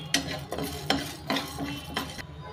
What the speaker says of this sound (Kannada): ಈಗ ಸ್ವಲ್ಪ ಹುಳ್ಳಿಕಾಳು ಹಾಕಿ ಹುರ್ಕೊತಾ ಇದ್ದೀನಿ.